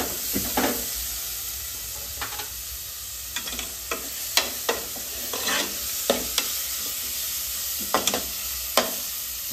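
Chopped medium-size tomato frying in a pan for a Kannada-style vegetable palya, with a steady sizzle broken by repeated sharp stirring scrapes spaced every second or so, close and alone.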